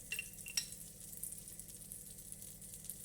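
Butter and oil with shallots fry in a pan, a faint, steady low sizzle with a couple of small metallic clinks near the start.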